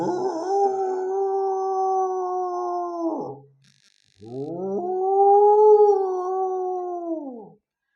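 A voice imitates a howling dog in two long, sustained howls, the first about three seconds, then a brief pause before a second rising and falling howl.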